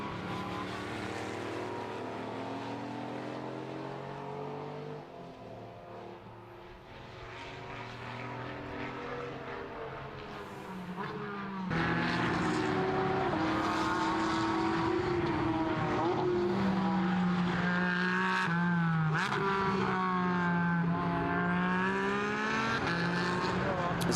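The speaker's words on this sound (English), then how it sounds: "cars thunder their way down around this circuit." Porsche Sports Cup race cars lapping the Misano circuit, a sustained engine roar with rising and falling pitch as cars pass and shift, growing louder midway and staying dense to the end.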